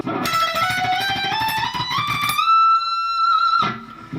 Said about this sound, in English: the last lick, you've got to do a little bit of tremolo picking